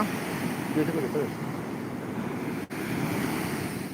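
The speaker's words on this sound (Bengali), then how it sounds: "আবার একটা ঢেউ উঠেছে বড় ঢেউ বিশাল বড়" Ocean waves break and surge against the shore in a continuous loud wash of surf, with wind buffeting the microphone throughout.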